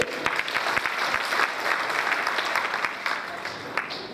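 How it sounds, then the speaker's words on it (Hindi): A crowd at a speech about the Bhagirath Rath Yatra and Bhagirath community breaks into sustained, dense applause, many hands clapping steadily at an even level throughout. "तालियों में गड़गड़ाहट भी अपनी बाहुबल से प्रदर्शित होनी चाहिए"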